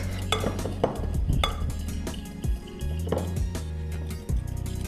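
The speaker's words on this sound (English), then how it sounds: "Using the whisk, just whisk them up, the custard sugar and the butter." Custard sugar and softened butter are whisked together in a bowl, giving a steady scraping, stirring sound with a few sharper knocks of the whisk against the sides, close up and without speech.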